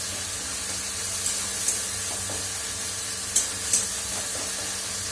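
Tomatoes frying in a hot pan, a steady hissing sizzle that runs throughout with a few brief louder spits and crackles, close and alone with no talk.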